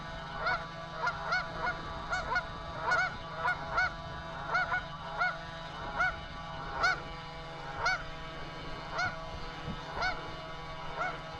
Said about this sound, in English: Check out them geese.